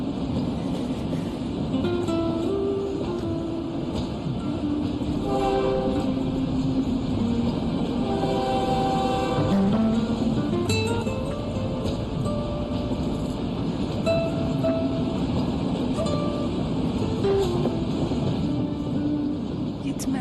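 A train passes in a continuous, loud rolling rumble with faint rhythmic clatter that lasts throughout, while people talk over it in a dramatic scene.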